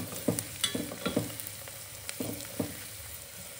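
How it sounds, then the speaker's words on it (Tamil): Onions sauté in oil with whole spices, giving a soft steady sizzle broken by repeated scraping stirs and clacks of a spoon against the pan, close and without speech. "வெங்காயத்தை போட்டுக்கலாம். வெங்காயம் பாருங்கள் இந்த மாதிரி வதங்கணும்."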